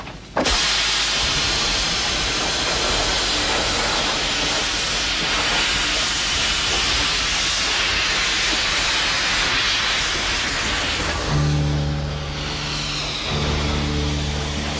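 An old steam locomotive vents a loud, steady broadband hiss of steam for several seconds, then a low mechanical hum and rumble rise near the end.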